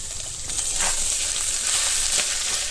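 Potatoes with salt, turmeric and chilli fry in a pan with a loud, steady close-up sizzle, broken by a few stirring scrapes, with no talking.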